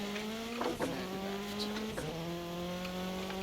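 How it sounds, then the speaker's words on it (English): A rally car engine in Dirt Rally 2.0 drones steadily at a mid-range pitch with turbo whine. The pitch drops at gear changes, and tire scrabble and scrapes come through under it. It is close and continuous, with no talk. "These engines are torquey, but if you drop, if you go too low, it doesn't pull at all."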